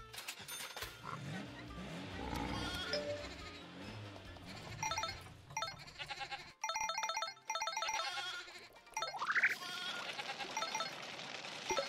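Sheep bleat in the Farm Frenzy 4 farm-management game, mixed into busy, looping game music and interface sounds, with a few short bleats rising out of the steady background.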